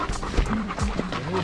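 A big husky pants rapidly and heavily close by on a mountain hiking trail, the breathy rhythmic huffs filling the short moment with faint voices mixed in.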